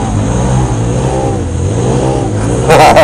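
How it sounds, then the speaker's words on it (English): Off-road buggy in four-wheel drive pushing through deep water, its engine holding a loud, steady rev close by with a brief surge near the end. "Oh, that is deep. Put that little buggy in four-wheel drive."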